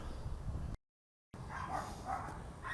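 Dogs bark from the houses behind an old cemetery in Houston, a few sharp barks in quick bursts, moderately distant and faint over outdoor background noise, with a brief dropout of total silence partway through.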